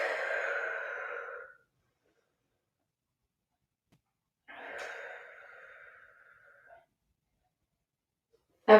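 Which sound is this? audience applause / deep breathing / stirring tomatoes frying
deep breathing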